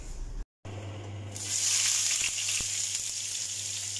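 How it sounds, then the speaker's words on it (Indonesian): Shallots and garlic go into hot oil for a taro fritter recipe and fry with a loud, bright sizzle that swells after a brief drop and holds steady, close up, with no talking. "terus dilanjut kita goreng dulu bawang merah dan bawang putihnya."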